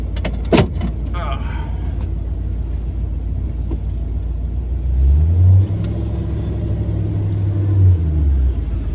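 A truck heard from inside the cab on the drive home, a steady low engine rumble with road noise and a few knocks, the engine swelling louder in the second half; a person talks early on.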